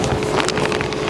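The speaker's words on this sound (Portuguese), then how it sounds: "Está um bocado de vento" Wind blows hard outdoors into the microphone, a brief rumbling buffet with low roar and flutter, close and loud, with no speech.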